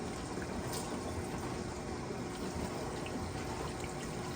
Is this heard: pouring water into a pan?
yes